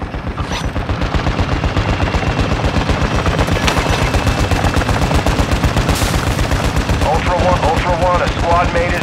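Sustained, loud automatic gunfire from a Call of Duty Warzone 2.0 DMZ match, rapid bursts running nearly nonstop with a few sharper shots, while a radio-style voice speaks over the shooting.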